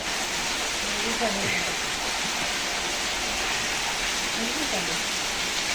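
Steady rain falls in a continuous even hiss, with faint voices underneath.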